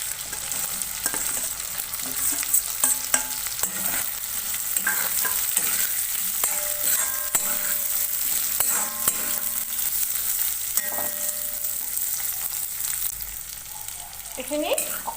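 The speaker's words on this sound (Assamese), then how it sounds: "এইখিনি অকণমান ভাজি ল'ব" Potatoes frying in a pan as they are stirred, with a steady close sizzle broken by repeated scraping and clinking strokes of the spoon against the pan, continuing throughout with almost no talking.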